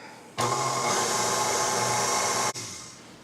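An electric mixer whirs steadily through cake batter for an Italian cream cake. The motor starts abruptly, holds an even drone for about two seconds, then cuts off briefly and restarts.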